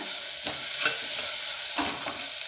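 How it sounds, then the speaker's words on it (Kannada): Food being lightly sautéed in a pan, a steady close sizzle with a couple of brief scraping stirs, no voices. "1 ನಿಮಿಷ ಸುಮ್ಮನೆ ಸ್ವಲ್ಪ ಲೈಟಾಗಿ ಬಾಡಿಸ್ಕೊಳ್ಳೋಣ"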